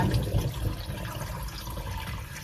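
Tap water pours steadily into a container of sticky rice being covered for soaking, a continuous close, fairly loud rushing flow with no talking.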